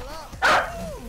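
A dog in the Overwatch video game gives one sharp, loud bark in the middle of a short stretch of game sound that also carries soft, wavering electronic tones.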